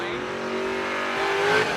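A 1986 Ford Mustang drag car at a bracket drag race roars at steady high revs, loud and close, swelling slightly toward the end.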